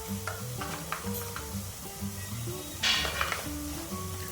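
Homemade masala and red chilli powder fry in a pan for chicken biryani, a steady close sizzle with spoon stirring and scraping, a brief louder hiss near the end.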